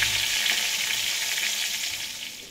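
Eggplant pieces fry in hot oil over a medium flame, giving a steady, dense sizzle and crackle that holds close and fairly loud, easing off slightly toward the end.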